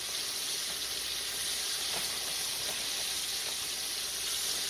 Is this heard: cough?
no